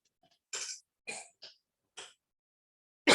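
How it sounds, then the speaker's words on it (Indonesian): A person clears their throat in a series of short, harsh rasping bursts, four distinct hacks spaced about half a second apart and a fifth starting at the very end, close and fairly loud against silence. "Aduh, punten batuk."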